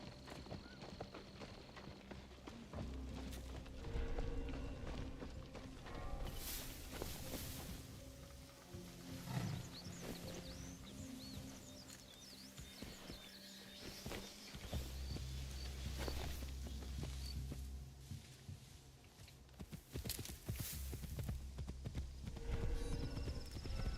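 Horse hooves clip-clopping in a video game, a steady run of hoofbeats under a loud game soundscape with other animal noises and brief movement sounds.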